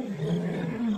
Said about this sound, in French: Les lions sont des chasseurs nocturnes et représentent une vraie menace pour les chiots